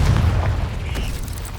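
Confringo blasting spell cast in Hogwarts Legacy, a short deep boom with a rumbling burst that decays over a second and a half, loud and alone.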